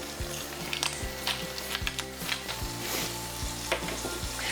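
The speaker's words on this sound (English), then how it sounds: "And we've just got a light sizzle." Chicken skin searing skin side down in a hot pan, a steady light sizzle and crackle with occasional soft pops, close and continuous.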